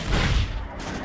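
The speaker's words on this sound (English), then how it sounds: "I got blown up by a rocket launcher." A rocket launcher explosion in GTA San Andreas, heard as a single loud, close, broadband blast that rumbles on for about a second.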